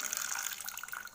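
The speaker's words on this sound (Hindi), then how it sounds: "इसमें मैं अब ऐड कर दूँगी 2 कप पानी" Two cups of water are poured into a cooking pan for a herbal home-remedy tea, a steady splashing trickle heard up close that lasts only a moment, with no one speaking.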